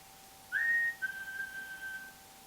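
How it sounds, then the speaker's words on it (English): A distant police, ambulance or fire siren gives a thin, steady high tone for a second or two over a quiet background hum, at high tide in Cullercoats. "That's a police or ambulance or fire service, a siren in the background there."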